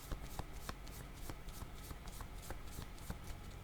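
Playing cards riffled and drawn from a deck in a close, steady flurry of rapid papery flicks and snaps, with no voices over it.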